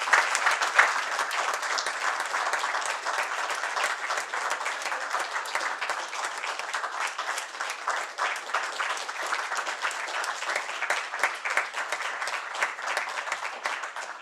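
An audience at a science outreach talk applauds steadily for fourteen seconds, a dense, even wash of many hands clapping in a hall, loud and sustained.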